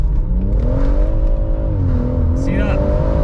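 A BMW M140i fitted with a Wavetrac limited slip differential accelerates at full throttle, its engine note climbing loud and close in a rising, slightly wavering drone, with a brief tire or mechanical rasp near the end.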